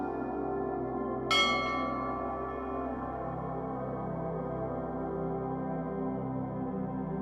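One bright bell strike rings out in a sleep hypnosis session, its clear tone decaying slowly over several seconds above a soft, steady background drone.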